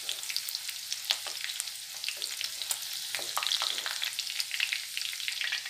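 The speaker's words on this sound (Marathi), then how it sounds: "मेथीची भाजी घालून परतून घेऊया." Fenugreek leaves and moong dal sauté in a hot pan, a steady close sizzle with scattered crackles and the scrape of stirring, no talking.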